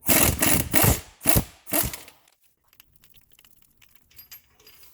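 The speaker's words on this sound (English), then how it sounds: "Get a 17 mil flex socket on a 1/2 inch Ugga Dugga gun" A 1/2 inch impact gun with a 17 mm flex socket hammers a bolt loose on a 2002 Honda CR-V, making four loud, close rattling bursts over about two seconds, followed by quiet small clinks and no talking.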